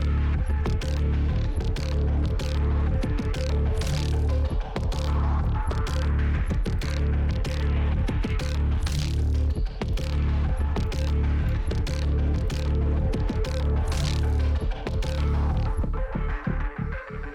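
A dense, throbbing, atmospheric synth drone, holding steady and loud for the whole stretch, with a low pulsing hum and rapid rhythmic flutters running through it.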